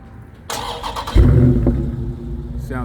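A Dodge Charger 392 Scat Pack's engine is warm-started: a starter whir, then the V8 catches with a deep, loud bark and settles into a rumbling idle.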